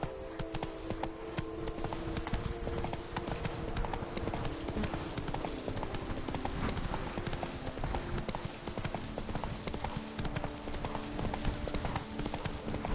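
A horse gallops in The Witcher 3, its hooves drumming in a fast, steady clip-clop rhythm that runs continuously up close, with faint game ambience beneath.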